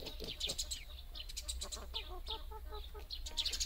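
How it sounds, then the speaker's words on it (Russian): A white Dominant-breed hen, broody, clucks repeatedly in a near, steady run of short throaty calls with higher chirps mixed in, alone without talk. "эта беленькая курочка доминант у меня регулярно начинает квахтать"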